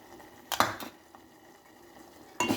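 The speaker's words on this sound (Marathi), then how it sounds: "पूर्णपणे मस्त असं मिक्स करून घेऊ आपण तांदळाचं पीठ" Soaked rice flour is stirred into a tomato and fenugreek curry in a pan. A few distinct utensil scrapes and clinks against the pan break a quiet background, with no talking.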